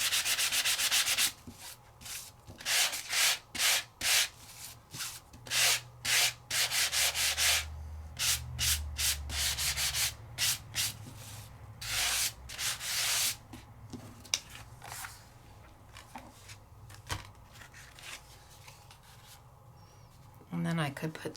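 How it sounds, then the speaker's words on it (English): Rhythmic strokes of sanding across a lavender-coloured card surface, a run of close, scratchy rubbing passes that come in bursts with short pauses between them. "give a nice little sand to that lighter shade of lavender on the inside"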